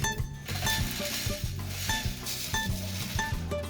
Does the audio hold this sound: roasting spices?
yes